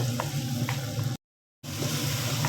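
Tomatoes fry in a pan with oyster sauce and soy sauce while being stirred, a steady close sizzle with soft scraping, briefly cut to silence midway before resuming.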